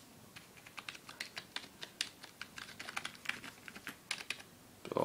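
Typing on a Medion computer keyboard: a steady, fast run of light, crisp key clicks, close by and fairly quiet, with a louder clack at the end.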